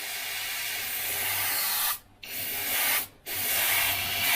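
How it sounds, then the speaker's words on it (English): Spray paint hisses through a stencil slit onto black card in three close, steady bursts separated by two short pauses. "what you're aiming to do is spray"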